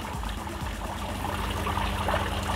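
Steady bubbling and trickling water from a fish pond aerator outlet under a terrace, a continuous close gurgle with no voices.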